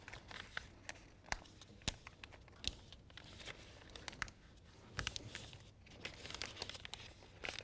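Paper is folded by hand for an origami craft, giving soft crinkles, rustles and occasional sharp creasing snaps, close and faint, with no talking.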